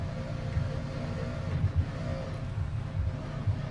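A racing car engine in BeamNG runs at a steady, rough low drone with slight surges, close and continuous, with no speech over it.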